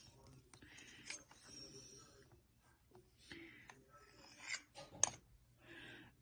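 A sheet of polymer clay, rolled thin through setting 6, being cut into small pieces, quiet close snips and clicks in irregular bursts against near silence.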